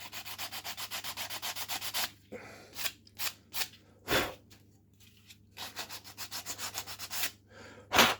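Hand sanding a small plastic part of a 1/56 scale Panzer IV model kit: quick rhythmic rubbing strokes in close bursts, with short pauses and a few louder scrapes, no talking.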